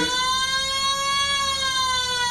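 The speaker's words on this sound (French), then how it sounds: "La sirène retentit." An alarm module's electronic siren blares in a continuous, harsh, buzzy tone, loud and close, holding steady with a slight wavering pitch throughout.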